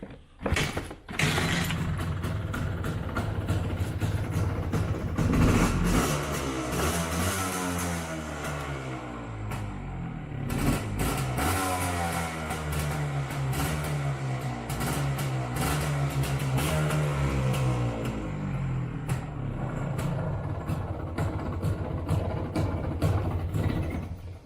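Aprilia ETX 125 motorcycle engine revving up and down repeatedly, loud and close, with rising and falling pitch sweeps throughout and no talking.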